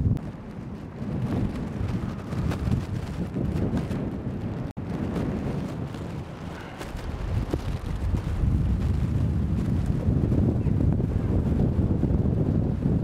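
Hurricane Irene's 50 mph wind gusts roar and buffet the microphone at Gilgo Beach in a steady, loud, rumbling rush with surging gusts, and no voices are heard.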